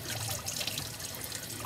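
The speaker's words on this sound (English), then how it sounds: "So we'll put it under the water." Tap water runs over a painted clay coil heart as it is rinsed, a steady close trickle and splash with no talking.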